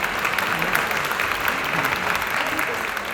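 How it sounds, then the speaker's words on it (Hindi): Loud, dense audience applause fills a birthday celebration and book launch for a composer, a steady roar of clapping throughout with some voices mixed in. "और जोरदार तालियां बजती रहे, बजती रहे,"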